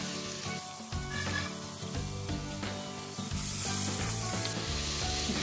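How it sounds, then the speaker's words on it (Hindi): Finely chopped onions and green chillies sizzle and fry in a pan with ginger and garlic, with a steady close crackling hiss and occasional stirring scrapes, no voices over it. "थोड़ा सौते करके 2 बारीक कटे हुए प्याज डालेंगे और"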